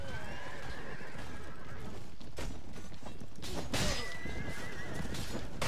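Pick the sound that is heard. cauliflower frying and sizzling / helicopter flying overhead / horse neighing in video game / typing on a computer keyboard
horse neighing in video game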